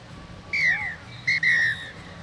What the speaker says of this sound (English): the halftime whistle from the referee